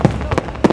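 Fourth of July fireworks go off in three quick, sharp bangs within less than a second, fairly loud and close.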